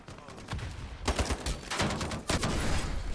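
Rapid gunfire bursts in the shooter game Ironsight, several loud close volleys cracking in quick succession over a short stretch.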